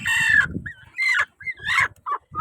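Free-range country hens on a farm clucking in several short close bursts, with broken rhythmic calls and brief pauses between them, no talking.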